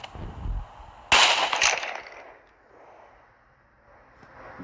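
A loud, close gunshot in a zombie game, a sharp crack with a quick second report, then decaying into a low rumble and quiet.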